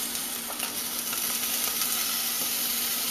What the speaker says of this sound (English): And you add a sliced up onion.